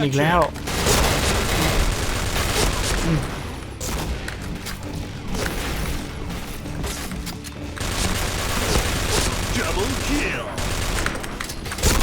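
Gunfire from the PB K-3 gun in a shooting video game, including a headshot: loud, rapid bursts and booming shots that repeat across the stretch, with a voice talking over parts of it.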